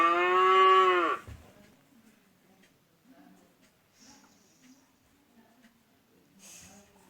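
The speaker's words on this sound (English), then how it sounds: "Cow. Cow." A single loud cow moo, drawn out for about a second, stands clear at the start, followed by soft low shuffling and faint breathy noises.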